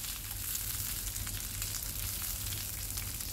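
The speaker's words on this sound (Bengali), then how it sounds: "তো ভেন্ডিগুলোকে আমি একটু নেড়ে চেড়ে নিচ্ছি" Okra (ladies finger) frying in a pan, a constant dense sizzle heard close and even throughout, with no clear stirring strokes standing out.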